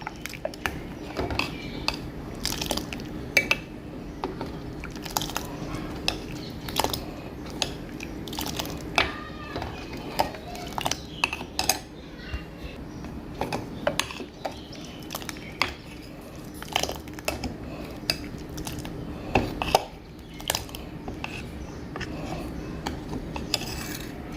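Grated coconut with milk, cornflour and sugar is stirred in a pan for coconut ice cream, heard as repeated close scraping and clinking of a spoon on metal in an uneven rhythm over a low background hum.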